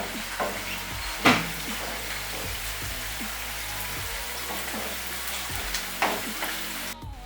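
Onion and garlic frying in a pan give a steady soft sizzle, broken by a few sharp clacks and stirring knocks.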